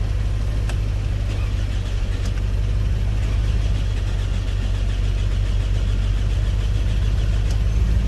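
A 2005 Toyota Camry engine runs loud and close with a steady low idle rumble while it takes fuel and cuts fuel, a few faint ticks over the drone.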